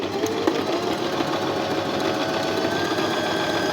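An electric tabletop household sewing machine runs steadily while stitching a buttonhole, a continuous close whirring and rapid needle clatter with no talking.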